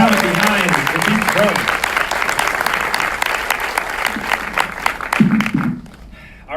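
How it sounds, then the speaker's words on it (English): A crowd at a film Q&A with a director and an actor breaking into loud, sustained applause with a few cheers, with speech heard early and late before the clapping fades out. "big round of applause before we get started"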